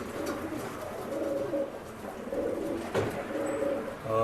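Pigeons in a loft coo steadily in a low, overlapping murmur, with faint flutters and rustles nearby throughout.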